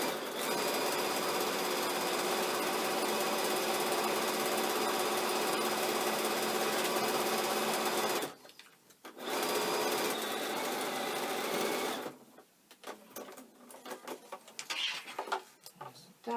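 Sewing machine top stitching a seam in fabric with a longer stitch length, a steady close motor whir running continuously, pausing briefly midway, then stopping, followed by quieter handling noises.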